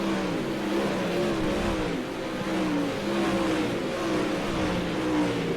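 Pro late model race cars roar around the Limaland dirt track in a continuous, loud engine drone, with several cars blending together as they pass.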